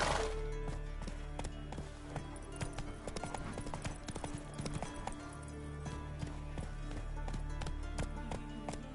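Hooves of the horse Roach in The Witcher 3 clip-clop in a fast, steady galloping rhythm, close and continuous with no talking.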